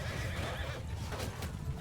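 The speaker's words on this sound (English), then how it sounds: "there is another horse for us to mount up on here" A horse neighs amid battle in Mount and Blade 2 Bannerlord, a steady whinny blended with hoofbeats and busy combat noise throughout, fairly loud and continuous with no talk.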